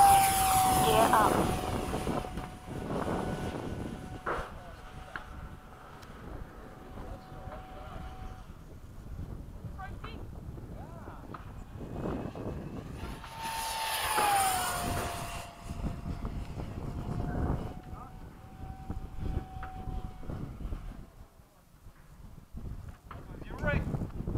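A Skysword aircraft flies over the LFE field at midday, its engine whine swelling and fading as it passes overhead, heard at a distance beneath people chatting nearby.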